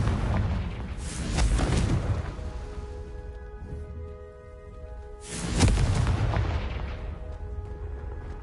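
Confringo blasting spells in Hogwarts Legacy go off as two loud, booming explosions about four seconds apart, each rumbling out over a faint steady hum.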